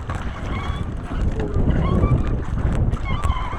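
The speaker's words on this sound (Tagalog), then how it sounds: "Lakas ng hangin, ang lalaki ng alon." Strong wind and large waves buffet a small boat on open water, a dense, continuous roar of wind and splashing water that stays loud and steady throughout, with no clear talk.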